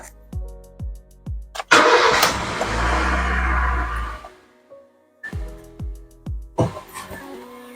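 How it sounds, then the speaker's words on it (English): A car engine cranks and starts after an oil change at a home service, catching with a broad roar before settling, framed by short thumps and clicks of work around it; nearby and fairly loud, no talk. "The engine sounds good."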